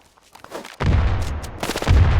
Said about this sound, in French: La grenade hein, qui va partir, ça prélève, beaucoup d'HP là